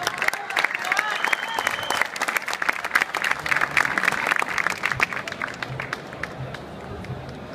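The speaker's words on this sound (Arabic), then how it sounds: "تصفيق كبير لمصطفى نادر" Audience applause for Mustafa Nader, a 19-year-old painter, photographer and writer, with dense, crisp clapping and a few cheers, loud and sustained before easing slightly toward the end.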